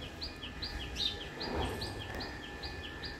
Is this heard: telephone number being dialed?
no